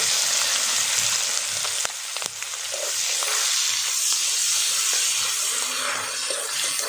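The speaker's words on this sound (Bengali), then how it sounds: "আদা আর লঙ্কাটা ভাজা হয়ে গেছে, আদা থেকে কাঁচা গন্ধটা চলে গেছে।" Grated ginger and chopped green chilli fry in hot oil in a pan for potato chop, giving a steady, close sizzle with a few light clicks of stirring and no talk.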